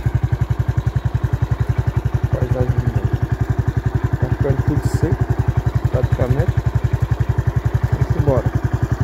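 A motorcycle engine runs steadily while being ridden on the way to a rural bean field, its pulsing mid-pitched drone loud and close throughout, with brief rises in revs and a voice talking over it.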